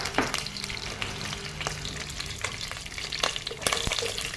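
Curry leaves and two green chillies crackle in hot tempering oil for a Chettinad crab curry, a dense close sizzle with scattered pops and a few sharp utensil knocks against the pan, no voices.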